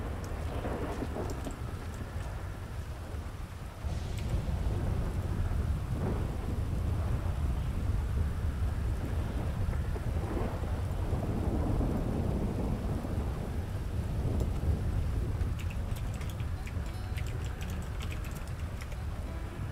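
Video game rain hisses steadily throughout with low rumbling thunder rolling underneath, a dense continuous downpour that swells slightly partway through.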